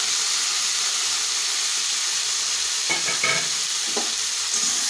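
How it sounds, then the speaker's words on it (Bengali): Capsicum, carrot, peas and green chillies stir-fried in hot oil for sabudana pulao: a steady loud sizzle throughout, with a few brief scraping stirs of a spatula partway through, close up. "সব একসাথে নেড়ে চেড়ে দেবো।"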